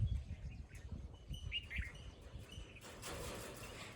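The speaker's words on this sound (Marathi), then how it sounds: "चिमणताईचा नाद आहे का?" A sparrow gives a few faint, quick chirps in quiet outdoor surroundings on a farm in the morning, followed by soft hiss and low rustling.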